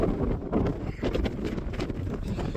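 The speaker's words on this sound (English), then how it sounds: "it's windy as beggar" Strong gusty wind buffets an outdoor microphone on an exposed Peak District hilltop ridge, a loud continuous roar with rumbling low-end surges throughout and no speech.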